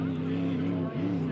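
Racing boats roaring on a water course at the Apollo Columbia Cup, a sustained loud engine drone with a brief dip and pitch shift near the end, with voices talking alongside.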